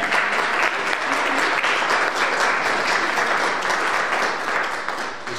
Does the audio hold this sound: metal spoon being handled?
no